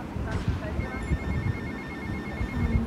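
A phone rings repeatedly with a steady electronic trill in the video game GTA Vice City, over low game background noise and a voice talking.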